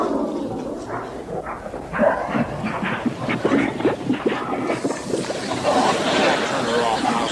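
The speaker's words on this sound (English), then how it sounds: "start your engines" A boat engine sputters to life and settles into a steady, rough drone, with voices and a barking dog mixed in over it.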